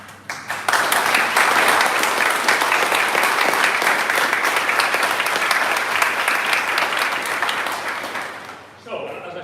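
Sustained audience applause greets a student-built race car at its 2023 unveiling, a dense, loud wash of clapping that swells quickly, holds steady for about eight seconds, then tapers off near the end.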